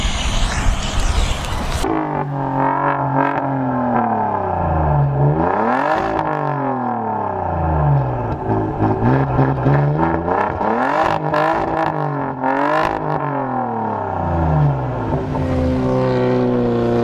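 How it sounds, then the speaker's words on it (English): Drifting Mazda and other car engines rev repeatedly, pitch rising and falling in sweeping waves, loud and close, with several vehicles overlapping. "Carson, you're just revving"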